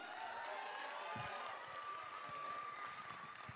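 A live audience at a festival claps for the performer Moussa, a soft, distant patter of applause with light crowd noise and a few thumps, fairly faint throughout.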